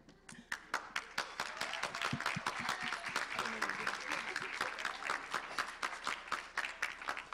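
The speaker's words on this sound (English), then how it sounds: "Everybody give a round of applause." A pageant audience claps for a contestant at a hospitality competition, with a few loud, distinct claps close by over a thinner crowd patter, and voices talking underneath throughout.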